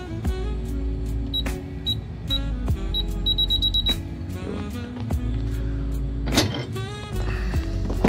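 A security alarm keypad beeps as a code is punched in on a dark early morning, several short high electronic tones in quick succession over a steady low engine-like rumble, with rustling handling noises between presses.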